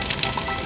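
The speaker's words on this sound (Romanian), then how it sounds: "A luat un pește conservat din frigider și l-a pus la prăjit." Canned fish frying in a pan, a steady close crackling sizzle throughout a short burst, with no voices.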